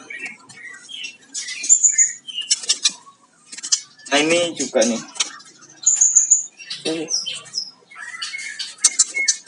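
Caged birds at a magpie-robin farm squawk and chirp in short bursts and shrill whistles, mixed with clattering noises while someone speaks briefly in between.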